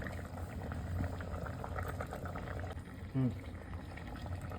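A pot of home-made fish curry bubbles steadily at a simmer, a soft continuous boiling under faint background noise.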